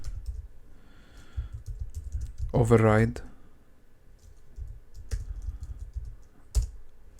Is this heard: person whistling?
no